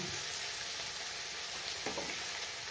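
Green chillies fry in hot oil in a pan for an egg pepper gravy, giving a constant loud, close hiss with a brief stir partway through and no talking.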